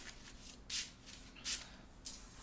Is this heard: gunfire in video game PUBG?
no